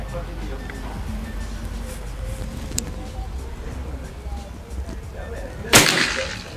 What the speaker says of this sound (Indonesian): Sekarang tembakan terakhir yang ketiga